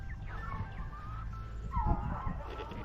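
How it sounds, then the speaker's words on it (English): Coonhounds barking faintly in the distance, a few scattered howling barks over a steady outdoor background hum. "You can hear the coon dogs next door."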